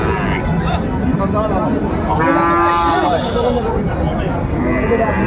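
Several Friesian and crossbred bull calves low in long, resonant moos close by at a cattle market, against a constant background of crowd chatter.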